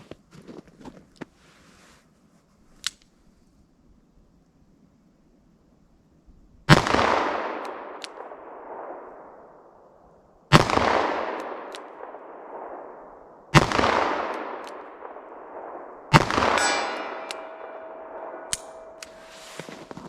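An Elmer Keith-style .44 Special revolver load fires four sharp, loud shots spaced a few seconds apart, each trailing off in a rumbling echo, after some faint clicks and handling taps at the start.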